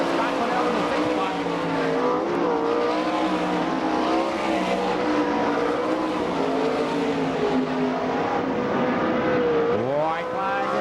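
Sprint cars racing on a dirt track at an All Star Circuit of Champions event in Franklin, Pennsylvania, engines screaming and wavering in pitch as they pass nearby, loud and continuous under an announcer's commentary.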